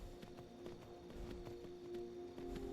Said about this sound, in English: our wonderful mountain climbing Skyrim horse